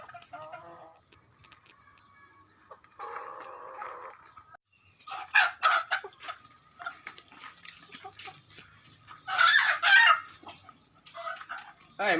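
Farmyard chickens and a rooster clucking and crowing in bursts, with louder calls around the middle and near the end, over a quiet rural background in a Minang comedy setting.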